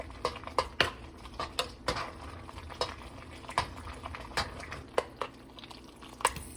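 A utensil scraping and clinking in a pot of boxed mac and cheese as it is stirred, in a steady rhythm of repeated soft knocks over a low simmering hiss, close and fairly quiet.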